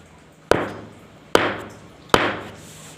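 A hammer strikes a ceramic tile three times at even intervals, each sharp, loud crack followed by a short ringing decay, with quiet between the blows.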